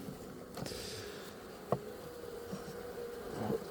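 Bees buzzing in a steady, close drone, with a few soft knocks and bumps rising above the hum.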